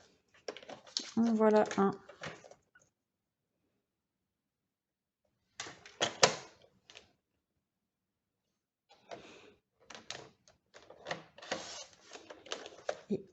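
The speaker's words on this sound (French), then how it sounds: "je vais découper ces deux carrés. Hop, en biais. Donc, je coupe en diagonale." Scissors cut paper squares diagonally for a pop-up card, a few short crisp snipping bursts separated by silences, with someone speaking briefly between cuts.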